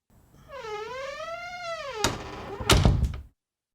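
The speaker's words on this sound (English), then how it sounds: "Close the door, Stuart." A door creaks with a long wavering whine as it swings, then shuts with a solid thunk followed by a couple of sharp knocking clatters, close and clear with no voices.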